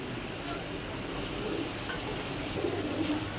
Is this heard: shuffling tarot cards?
no